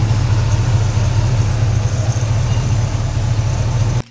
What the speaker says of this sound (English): 1975 Dodge 360 V8.